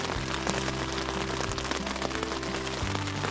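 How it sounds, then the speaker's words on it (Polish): Rain falling on a tent at a lakeside camp in northern Norway, a dense steady patter and hiss close overhead, with a faint low hum underneath. "miało padać i pada."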